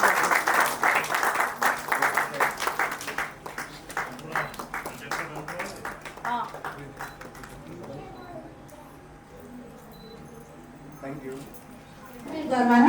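An audience stands and applauds to welcome the mayor at a Healthy Food, Wealthy Farmers awareness program in Faridabad: dense, steady clapping that is loud at first, then thins and fades as someone speaks over it.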